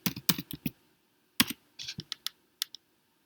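Someone types a search word on a computer keyboard: a burst of close, quick key clicks, a short pause, then a few more scattered taps.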